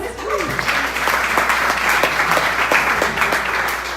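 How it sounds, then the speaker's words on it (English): Audience applause fills a ceilidh hall, a steady dense wash of clapping with scattered voices and a few shouts mixed in throughout. "a round of applause"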